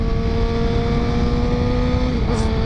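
Suzuki GSX-R 750 motorcycle with an aftermarket exhaust running at a steady idle or constant rev, a continuous droning engine tone close by, alone with no talk.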